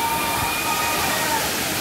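Constant roar of Muttal Falls near Attur, India, a broad rushing wash of water close by, steady and loud with a faint tonal hum underneath.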